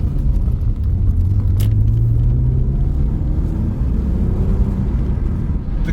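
MG ZT 190 engine pulling away from a junction, a steady rising drone as it accelerates, close and fairly loud, with no talking.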